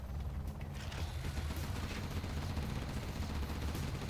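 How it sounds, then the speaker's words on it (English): Two Gatling cannons firing on a Battlemaster tank in C&C Generals Zero Hour, a dense continuous rattle of rapid gunfire with a few heavier thumps, steady and loud throughout, no talking. "Let's see how fast 2 Gatling cannons can kill Battlemaster."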